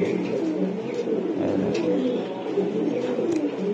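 Giribaj high-flying racing pigeons coo in a steady, overlapping chorus of soft low throaty calls, close and continuous throughout with a faint murmur of voices in the background.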